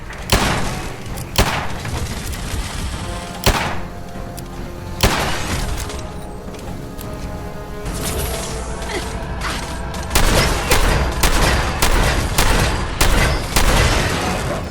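Turrets and an assaultron firing in the FEV labs of the Fallout 4 video game, sharp impacts and bursts of gunfire breaking through a loud, busy combat din, with rapid sustained fire toward the end.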